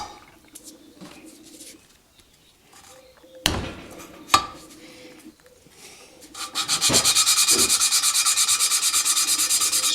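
Valve lapping on a Continental G176 engine from a Massey Ferguson 165 tractor, using a suction cup tool and compound. Scattered rubbing and taps give way to a loud, steady, rhythmic gritty scrubbing for the last few seconds.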